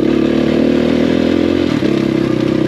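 A KTM 500 EXC-F single-cylinder dirt bike running while being ridden, a loud, close, continuous engine drone with a slight dip in pitch and a brief clatter partway through.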